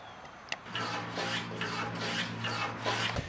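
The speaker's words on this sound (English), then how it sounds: "I'm also going to put this in the vise and chamfer the corners here so that it's a little bit more comfortable." A wooden stick handle clamped in a vise is filed to chamfer its corners, giving a steady rasping scrape in repeated strokes, close and fairly loud, with no talking.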